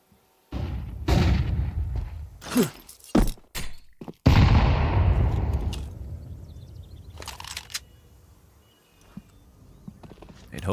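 A grenade explodes in a Counter-Strike match with a loud boom that trails off into a long, decaying rumble, set among other thumps and gunfire-like cracks.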